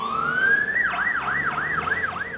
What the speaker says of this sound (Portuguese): A sirene é o sinal de que alguém precisa de ajuda.